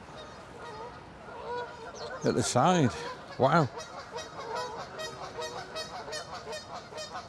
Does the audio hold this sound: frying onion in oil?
no